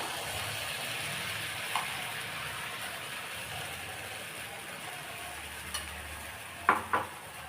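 Wheat flour appam batter cooks in a pan with a steady, soft hiss, and a few faint clicks and taps sound near the end.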